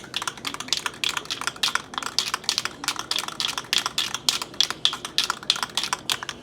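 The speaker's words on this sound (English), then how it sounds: "Vigorously shake it." A spray paint rattle can is shaken hard, its mixing ball clacking in a fast, steady run of sharp rattles that continues throughout, close and fairly quiet.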